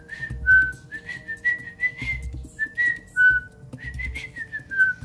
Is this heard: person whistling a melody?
yes